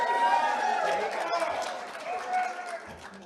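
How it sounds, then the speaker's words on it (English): A crowd at a church synod assembly cheers and whoops, a loud sustained roar of many voices with some shouting that slowly fades, without separate speech. "I'm going to tell myself that cheer was louder than his for athletic purposes"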